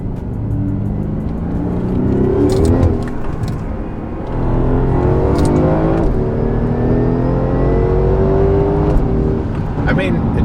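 BMW M5 fitted with a modified exhaust and active valves revs and drives, a steady droning engine note that swells and eases, with people talking over it.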